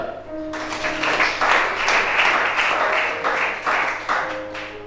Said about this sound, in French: Acclamez ça.